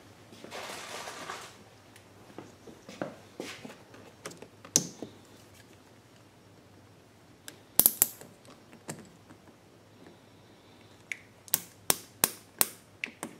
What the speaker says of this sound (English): we're going to use these nylon hose clamps to clamp a hose section that was supplied in my kit